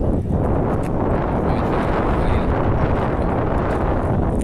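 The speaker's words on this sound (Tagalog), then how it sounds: "ang lakas ng hangin" Steady, heavy wind buffeting the microphone, a continuous loud low roar with no pauses for the whole stretch.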